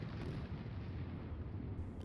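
A missile strikes the warship HMS Duncan in the Sea Power naval warfare game, producing a dense, loud, rumbling blast that rolls on for about two seconds without a break.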